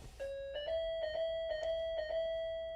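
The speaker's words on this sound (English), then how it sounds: "That's a doorbell." Doorbell chiming in a house in Kilkee, County Clare, a bright repeated ding ringing several times in quick succession, clear and close with no talking.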